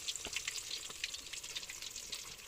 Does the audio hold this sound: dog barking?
no